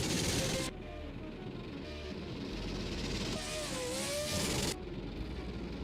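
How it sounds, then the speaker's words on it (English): A loud drift car engine on a track at night, revving hard and then dropping away before roaring back, with a strained, wavering pitch as it slides and accelerates out of the zone. "A much louder car out there tonight."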